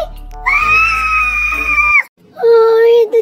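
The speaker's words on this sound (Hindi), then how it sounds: "चिल्ला क्यों रही है?" A woman lets out two long, piercing screams, the first sustained for well over a second, then a brief silence before a second loud, high wail, close and alone with no talking.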